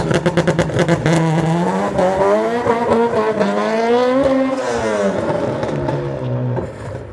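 Loud Honda Civic EP3 Type R with a modified exhaust doing a launch-control start, a rapid stutter of limiter pulses breaking into a sustained high engine wail as it accelerates hard through the revs, close and dominant.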